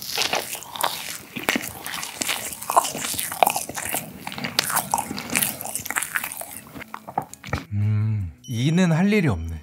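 Close, crisp bites and crunchy chewing of a soufflé pie from a bakery dessert festival in Cheongju, repeated in quick irregular bursts, followed by a few drawn-out vocal sounds at the end.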